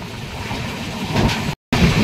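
The LTT–Kudal Ganpati special train runs close alongside, a steady rumble of rolling wagons with faint clickety-clack and a brief dropout near the end, no voices.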